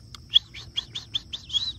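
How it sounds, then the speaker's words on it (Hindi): An Australian parrot at a bird zoo gives a run of about seven short, bright chirping calls in quick rhythm, close and clear against a quiet background. "Australian parrot, Australian parrot."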